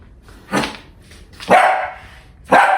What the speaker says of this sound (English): The only time he barks is when my son bothers him